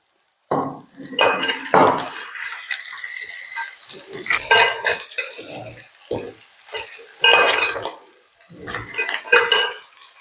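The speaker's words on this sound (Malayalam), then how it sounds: "അപ്പോൾ അതുവരെ നമുക്ക് ഈ ഞണ്ടിനെ ഇളക്കിയെടുക്കാം" Crab coated in masala being stirred in hot oil for a crab roast, with irregular scraping, clinking spoon-against-pan strokes and soft sizzling in separated bursts between pauses.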